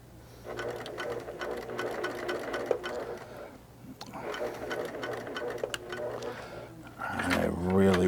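A sewing machine stitches cording onto a pillow in steady close bursts of rapid mechanical whirring, pausing briefly between runs, while someone talks over it.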